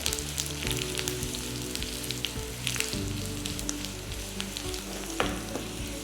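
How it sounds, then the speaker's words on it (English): Sliced small onions fry over a lowered flame in a pan, making the tempering for a traditional pepper tomato rasam. A close, continuous sizzle and crackle runs throughout, with occasional stirring and no talking. "We lower the flame and give it a gentle mix and wait till the onions turn a slight brown."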